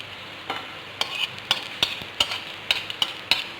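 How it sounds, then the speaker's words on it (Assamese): Dried red chillies fry in hot oil for a peanut chutney, a steady close sizzle broken by a regular series of sharp spoon scrapes and taps about every half second, with no talking. "শুকান জলকীয়াখিনি এনেদৰে ৰঙচুৱাকৈ ভাজি ল'ব।"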